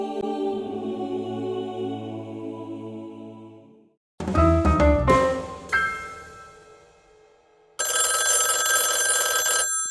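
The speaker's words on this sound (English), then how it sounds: "The ringing of the telephone forced her to mentation." A telephone ringing, heard as bright metallic bell-like tones that start, break off into silence, resume in a jangling burst and then return as a steady, harsh ring.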